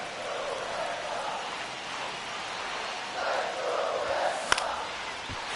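Baseball crowd noise in a one-run game in the ninth inning: a steady roar from a stadium crowd that swells slightly near the end, with a sharp crack and a brief thump over the murmur.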